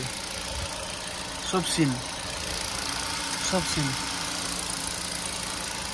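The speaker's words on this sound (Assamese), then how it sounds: "সব কি স্মুথ ইঞ্জিন পেট্ৰল ইঞ্জিন চলো গাড়ী" Petrol engine of a first-owner Hyundai i20 Magna running at idle with the bonnet open, a steady low mechanical hum throughout with someone talking over it in two short bursts.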